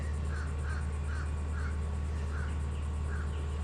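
A crow caws repeatedly in an outdoor boat-repair setting, with about half a dozen evenly spaced harsh calls at moderate distance over a constant loud low hum.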